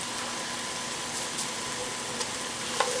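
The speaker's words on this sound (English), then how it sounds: "So I'm just gonna put the mushrooms in there, and we're just gonna saute this all on high heat." Mushrooms and spring onions sautéing over high heat for a vegetable rice, producing an even, moderately quiet sizzling hiss with a faint low hum and a few small clicks.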